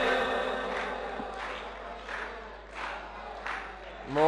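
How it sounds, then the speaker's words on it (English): Audience clapping in rhythm along to a devotional chant at a religious gathering, steady repeated claps blended with crowd voices, fairly loud and continuous throughout. "I hear more clapping than I hear voices"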